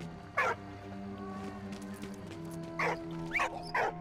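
Several short dog barks from the Valiant Hearts video game, a single bark and then a quick cluster of three, set over a steady low musical game backdrop.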